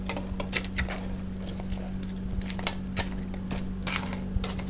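A utensil scrapes and clinks against a pan as crab is stirred with butter and ginisa mix, giving sparse, irregular metallic taps over a steady low kitchen hum.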